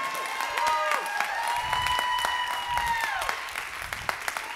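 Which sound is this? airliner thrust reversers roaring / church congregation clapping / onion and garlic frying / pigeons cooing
church congregation clapping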